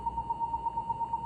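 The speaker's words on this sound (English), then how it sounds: "That's a fire alarm still." Fire alarm beeping in a room, a steady series of rapid, evenly spaced high electronic beeps, moderately faint and alone without talk.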